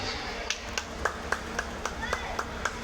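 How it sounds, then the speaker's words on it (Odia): Scattered claps from a live stage event audience, isolated sharp hand claps spaced roughly every quarter second over a steady hum and low crowd murmur, moderately close but thin rather than a full ovation. "put your hands together with a huge round of applause"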